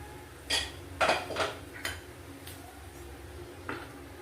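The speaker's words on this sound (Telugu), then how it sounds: "మూత తీస్తాము" A few sharp metallic clanks and clatters of a pressure cooker lid being removed, spaced irregularly over a steady low hum.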